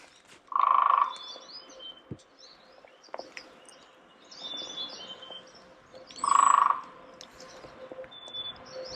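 Birds chirp in a winter forest in New Hampshire's White Mountain National Forest: scattered short high twitters in a quiet setting, broken by two louder, sustained mid-pitched calls near the start and two-thirds through.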